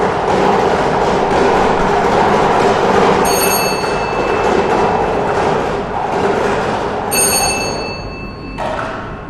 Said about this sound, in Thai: ขอให้พนักงานออกเลขรางวัลหมุนอุปกรณ์เลขเสียงประจำหลักเป็นครั้งที่3